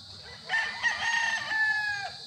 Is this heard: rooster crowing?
yes